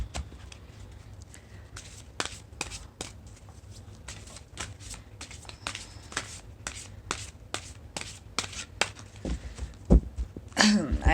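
Tarot card decks being shuffled by hand, a steady run of crisp riffling snaps and shuffles up close, growing busier and louder toward the end.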